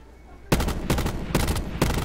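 Gunfire in Black Ops 4, four sharp bursts of rapid automatic shots spaced about half a second apart, loud and close with a sudden onset after near silence.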